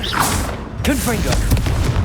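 A Confringo fire spell cast in the Hogwarts Legacy video game bursts out as a loud whooshing blast with mechanical clanks and crackling impacts, under a running game soundscape and brief voice-like sounds.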